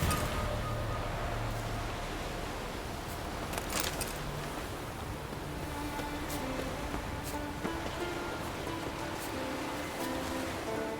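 Water sloshing and lapping in The Witcher 3, a steady wash of surf-like splashing with a few sharper splashes over a low rumbling game ambience, with no talk.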